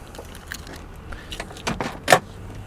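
A few light metallic jingles and clinks of car keys, brief and close, with small rattles building to a sharper jangle near the end.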